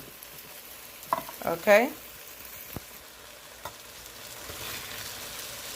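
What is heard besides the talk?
food sautéing and being stirred in a pan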